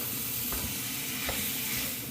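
Beef and onions fry in avocado oil for a cowboy casserole, giving a steady, close hissing sizzle with a couple of soft stirring knocks over about two seconds.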